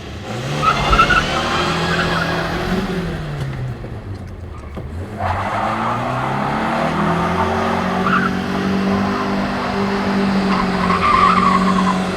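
A Ford Crown Victoria driven hard in a cheap-beater competition, engine droning and shifting pitch as it revs, with drawn-out tire squeals and skidding close by and loud throughout.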